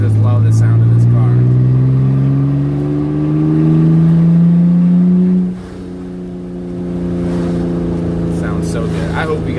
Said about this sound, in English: I love that sound it makes when I'm slowing down with the RPMs.